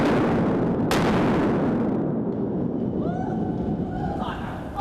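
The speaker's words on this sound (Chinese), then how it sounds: "来看这个爆破的画面。" Tunnel blasting on National Freeway 4, Fengyuan–Tanzi section in Taiwan: a sharp crack early on within a sustained, heavy, roaring rumble that gradually eases off.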